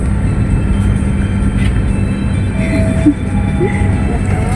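Onboard a new KA Cikuray train carriage pulling into Purwakarta station, a loud, steady low rumble fills the car, with faint thin tones drifting over it.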